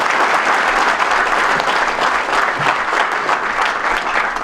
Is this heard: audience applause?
yes